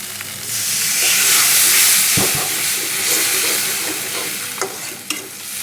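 Water poured into a hot pan of spiced egg korma with turmeric and salt, bursting into a loud, close hissing sizzle that stays strong and then settles, with a few clatters near the end.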